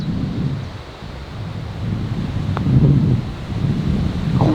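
Gusty wind on a golf course buffeting the microphone in a steady low rumble that swells and eases, loud and continuous throughout, no talking.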